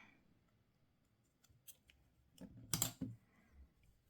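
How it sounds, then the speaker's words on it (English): Scissors cutting yarn during crochet sweater finishing, a few faint close clicks followed by one louder snipping crunch, then quiet. "to finish off, I'm just going to cut the yarn"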